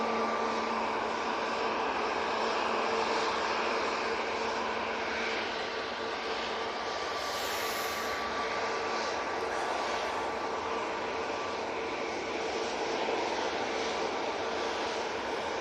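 A TUI airliner in plain livery departs Manchester bound for Toulouse, its engines a steady, continuous roar held at an even loudness throughout, with no voices over it.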